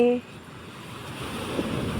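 Sea waves wash onto a village beach, a steady broadband roar of surf with soft wind, close and fairly loud, after a brief tonal sound at the start.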